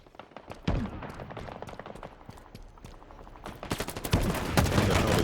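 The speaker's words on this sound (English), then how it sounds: "This is my favourite gun out of all of them." Rapid bursts of gunfire ring out during a Halo Infinite training-mode match, shots cracking in quick irregular volleys with heavier firing near the end, no voices over them.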